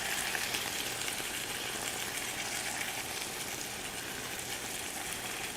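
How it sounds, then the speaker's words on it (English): Chili beef and shrimp fried rice cooking in a pan on high heat, a continuous bright crackling sizzle that stays steady and moderately loud from start to finish, with no one speaking. "Now let me cook it a little bit. So I'm cooking in a high heat"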